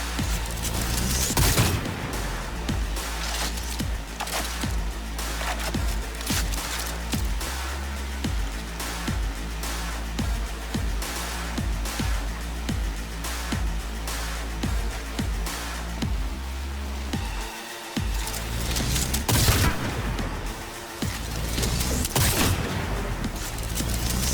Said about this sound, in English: from very, very far away, we're going to try to snipe this down